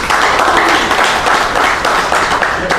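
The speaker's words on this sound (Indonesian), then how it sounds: "Coba tepuk tangan dulu." Loud, close clapping from an audience at an Islamic talk held outdoors, a brisk continuous patter of hands with slight swells in rhythm.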